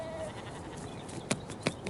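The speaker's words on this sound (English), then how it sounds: "Off go the sheep." Sheep at a sheepdog herding trial bleat twice in short bursts over a steady outdoor background, moderately distant and fairly faint.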